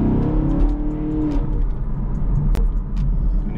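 A 2021 Chevrolet Camaro SS in sport mode accelerates hard, its V8 giving a loud, deep rumbling roar from inside the car that holds through the full clip, with no talking.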